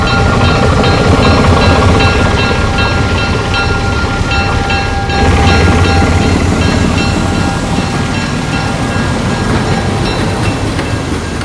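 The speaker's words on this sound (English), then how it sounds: "old diesels like this one from the Baltimore and Ohio were introduced as the modern trains of the 50s and early 60s" A Baltimore and Ohio diesel locomotive train from the 1950s or early 1960s runs steadily and loudly close by, a dense continuous rumble and rattle of rail cars with no voices.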